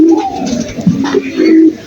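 Caged pigeons coo close by, a string of low, throaty calls that repeat and overlap without a break.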